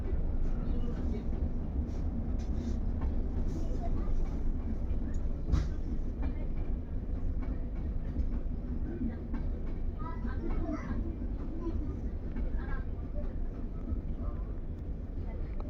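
The Padatik Express rumbles along the rails on the New Jalpaiguri to Sealdah route, a continuous loud running noise with wind buffeting as it comes into a station stop.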